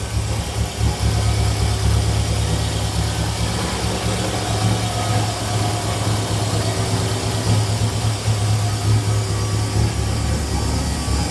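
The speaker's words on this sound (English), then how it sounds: "I need to change the fuel pump because it makes too much noise." Car engine idling steadily with a noisy fuel pump, a continuous loud drone and hum with a faint whine above, holding constant for the whole stretch.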